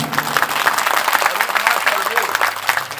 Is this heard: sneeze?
no